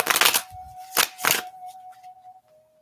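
Tarot cards are shuffled in a few quick riffling bursts, close and crisp, with a steady electronic hum underneath and no voices.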